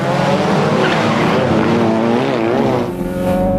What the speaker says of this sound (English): Burns is in second place, then the BMW, and then the 3 Sierra Cosworths